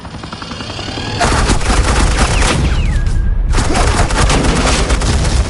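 Suppressing gunfire in the Batman: The Enemy Within game sounds as a loud, dense, continuous burst of rapid shots that starts abruptly and keeps going, with a brief dip near the end before resuming.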